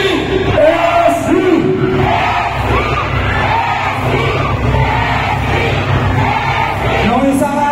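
A large crowd at a political rally in Pandacan, Manila, shouts a chant in unison, loud and continuous throughout, with yells and whoops rising over the steady roar.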